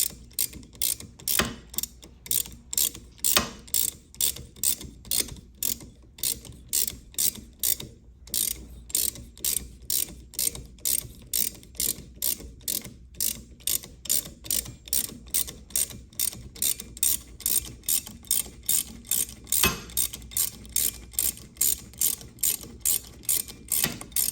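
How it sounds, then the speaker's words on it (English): Adjustable wrench ratcheting a nut on the stem of a Flo-Tite SF150 valve, a steady train of close, sharp metallic clicks repeating at an even pace for the whole stretch, with no talk over it. "If the stem wants to turn with the nut, just take your adjustable wrench and hold the stem still."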